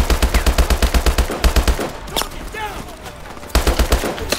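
Rapid automatic fire from a helicopter-mounted gun in Call of Duty Advanced Warfare, a fast, evenly pulsing stream of shots that breaks off for a moment, with whooshing effects in the gap, then resumes loudly.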